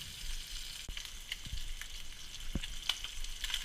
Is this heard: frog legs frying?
yes